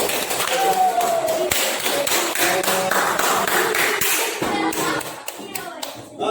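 A classroom of primary school children claps hands in uneven bursts, loud and close, with scattered taps and thumps before the clapping thins out near the end.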